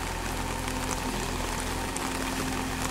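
Rain falls outdoors on a muddy, potholed road, making a steady, dense hiss of drops with a low constant hum underneath and no talking.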